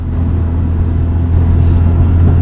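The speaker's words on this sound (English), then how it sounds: "Oh, I hear that 5th gear whine you were talking about" A 2001 Honda CR-V with a manual gearbox cruising in fifth gear, giving a loud, steady low engine drone and road rumble from inside the cabin, with a faint gear whine in the mix and no talk.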